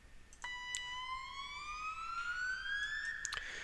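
A synth riser in an electronic remix build-up: a thin, bright tone sweeps slowly upward in pitch over about three seconds, fairly quiet, with faint percussive hits around it.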